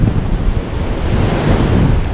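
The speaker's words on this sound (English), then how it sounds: "That wind's trying to howl it round." Strong wind buffets the North Wales sea shore, roaring steadily over crashing surf and rushing water, with gusts thumping the microphone throughout and no voices.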